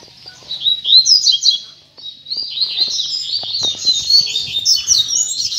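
Double-collared seedeaters (coleiros) sing in rainy, cool weather, a near, bright stream of rapid chirps and trills running almost continuously with a short pause, with faint low background noise.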